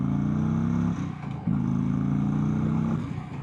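A 2025 Indian Springfield Dark Horse motorcycle with its 116 engine revs hard and close, dips briefly, then surges again into a sustained, throbbing roar.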